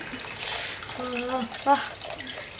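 Water is poured into a simmering Sankara fish curry in a home kitchen, a brief close splashing gush that comes and goes among relaxed conversation.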